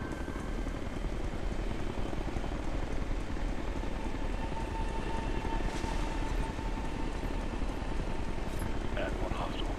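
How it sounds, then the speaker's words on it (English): Helicopter rotor chop throbs steadily from nearby in the tactical shooter Ghost Recon Future Soldier, a continuous rhythmic beating that stays constant throughout, mixed with rain-like hiss. "If that chopper spots us, it'll get messy real fast."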